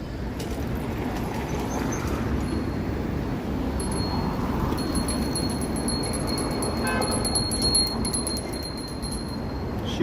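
A passer-by on a Yorkville street in Toronto rings a bell over and over on a hot evening, the bright repeated dings rising above a loud, steady wash of nearby traffic and city noise.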